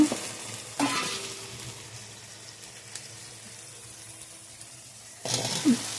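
Potatoes and taro frying in a pan of cooked spice paste give a soft, steady sizzle, with louder stirring scrapes near the start and again toward the end.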